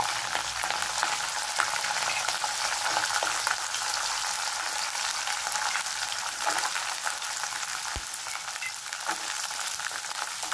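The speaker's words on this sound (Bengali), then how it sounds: "একটুখানি এটাকে ভেজে নেব।" Taro greens fry in a pan with green chili and chickpeas, giving a continuous, even sizzle close up with a faint occasional clink, no voices over it.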